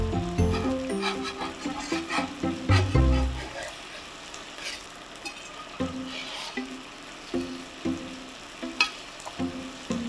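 A fish fillet fries in oil in a pan, a steady low sizzle with recurring soft clicks and scraping knocks, like a spatula working near the pan, and no talking.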